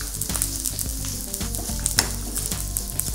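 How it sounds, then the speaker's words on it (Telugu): Capsicum and meal maker with peas and ground spices fry in a hot pan, spluttering with a loud, dense sizzle and frequent sharp crackles and pops, close by and with no voices. "బాగా పట్టుపట్టు అంటున్నాయి క్యాప్సికము, నన్ను స్టవ్ నుంచే పారిపోయేలా చేస్తున్నాయి."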